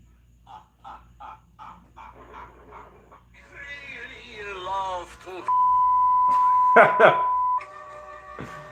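A steady censor beep tone sounds for about two seconds over music from a song, with sung and spoken voices around it.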